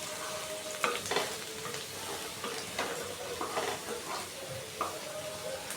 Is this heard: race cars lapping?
no